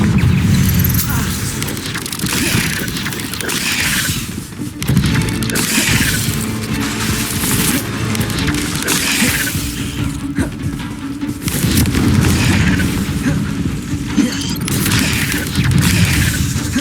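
Confringo explosive spell blasts in Hogwarts Legacy, a loud dense series of booming impacts and crashing bursts repeating throughout, with a voice speaking over them.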